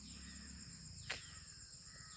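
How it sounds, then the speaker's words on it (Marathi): A single short bird call rings out over a quiet background of steady insect-like hum, in the countryside near Vandri Lake. "तुम्हाला फक्त कळेल बाजूला तो पक्ष्यांचा आवाज आहे एकदम"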